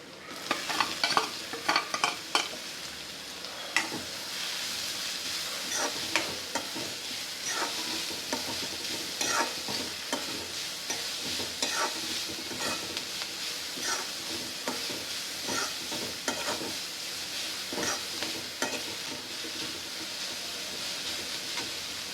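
Chopped onion, capsicum and grated carrot with ginger, chili and garlic are stirred in a hot pan for a sprouted moong and moth chilla. A steady sizzle runs under repeated spoon scrapes and clacks, close and continuous, with no talking.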